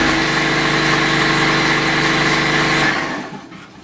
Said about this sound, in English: that compressor runs way more often than it should